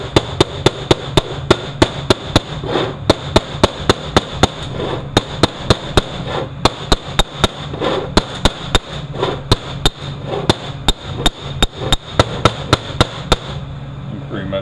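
Sharp metallic hammer taps strike repeatedly in an uneven rhythm, dozens of close, loud blows with brief pauses between bursts, tapping a bushing into place in a 6L80E transmission.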